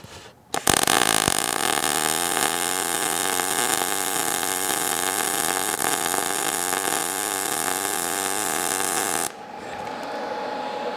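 MIG welder arc set to zero inductance, a loud steady crackling buzz that starts abruptly after a brief click and runs about nine seconds before cutting off to quiet background hum.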